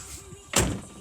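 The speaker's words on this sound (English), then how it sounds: "Open the door." A Seat Ibiza car door with a faulty interior lock opens with a single sharp mechanical clunk, close and fairly loud, after a quiet moment with a faint hum.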